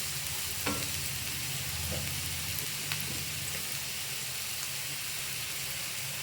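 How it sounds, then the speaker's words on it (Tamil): Onions sautéing with salt in a pan for an egg thokku, giving a steady background sizzle with a few soft stirring scrapes near the start and no voices. "இது கூடயே கொஞ்சம் இப்போ வந்து உப்பு போட்டு வதக்கிங்க"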